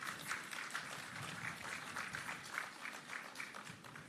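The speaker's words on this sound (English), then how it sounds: "I think that deserves a big round of applause" Crowd at an outdoor bus handover ceremony in Jamaica applauding: soft, distant, continuous clapping with a rhythmic wash of hands, fairly faint and steady, no voices.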